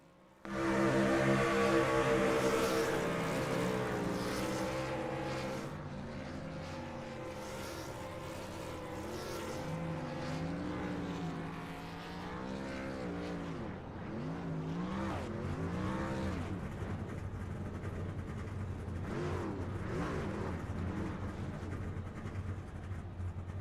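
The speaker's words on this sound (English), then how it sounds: "Some limited burnouts here for the two. You see the teammates now burning it down at the start-finish line." Race trucks at Talladega do burnouts at the start-finish line, with a loud sustained engine roar and wavering revs throughout, no voices.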